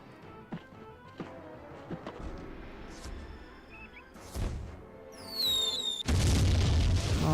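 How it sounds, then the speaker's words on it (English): Mortar fire in the tactical video game Jagged Alliance 2: several muffled booms and pops scattered across a few seconds, ending in a loud, sustained explosive blast with whistling tones above it. "I guess we better use the mortar."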